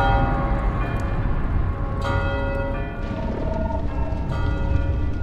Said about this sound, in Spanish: ¿Me molesta ahora el ruido de las campanas también?